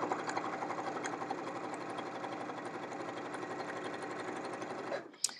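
Sewing machine stitching quilt fabric along a diagonal line, a steady rapid mechanical whir and needle clatter running continuously, then stopping with a brief clunk at the end.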